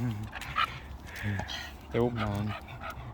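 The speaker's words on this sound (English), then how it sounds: "Just letting the dogs out for a bit." Dogs out for a walk in a park pant and make small yips nearby, while someone talks over them.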